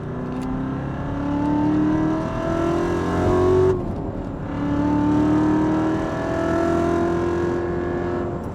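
Chevrolet Corvette C7 Z06 on a hot lap at Sebring at night, heard from inside with the windows up: a steady, loud engine drone that climbs through the revs, drops briefly at a shift, then pulls up again.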